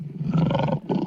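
A lion gives one short, loud, rumbling roar, close and alone.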